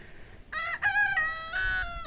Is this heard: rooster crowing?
yes